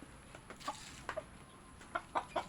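Chickens cluck in short, scattered bursts against a quiet background, a few soft calls followed by a quicker cluster near the end.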